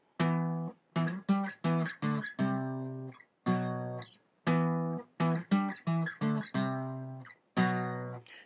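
Electric guitar chord section from a song: a run of strummed chords, some held and some short and choppy, in a steady rhythm with brief gaps between them, played alone and close at moderate volume.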